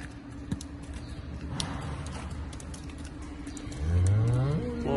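A cow on a farm gives a single long, rising moo near the end, over a steady background of clicks and faint clatter.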